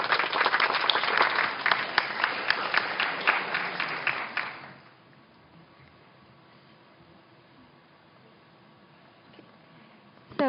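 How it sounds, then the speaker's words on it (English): An audience at a medical research conference poster session claps in a dense burst of applause for about four seconds before it fades quickly into a quiet room. "Please give a round of applause."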